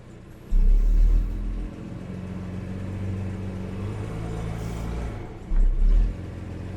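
Jaguar XJC engine running as the car creeps off, a low steady rumble with two louder bursts of revving near the start and end, close by and without talk.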